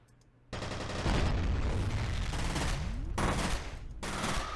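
Gunfire from the first-person shooter F.E.A.R., a sustained loud burst of automatic shots and impacts that starts abruptly after a quiet moment and keeps going with brief breaks, dense and close throughout.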